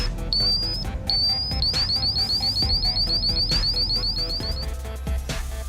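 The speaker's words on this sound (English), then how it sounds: "An alarm warning will sound when levels exceed 10 ppm." An electronic hydrogen sulfide (H2S) gas monitor alarm sounds a rapid chain of rising chirping tones, triggered above 10 ppm, repeating insistently over a low background hum before cutting off.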